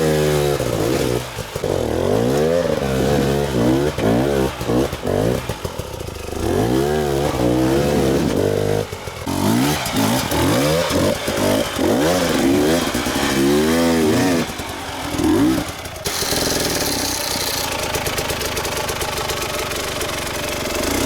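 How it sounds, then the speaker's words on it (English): Enduro motorcycle climbing a steep forest hill during a Romaniacs-style silver hill climb attempt, engine loud and close with repeated revving surges and throttle bursts, then a steadier high whine near the end. "Back to Brad, who is still riding Charlie's bike up while he catches his breath"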